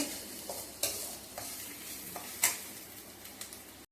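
Onions and eggs sautéing in a pan for egg fried rice, a soft steady sizzle broken by several sharp scrapes and taps of a spatula stirring against the metal, close up and with no voices.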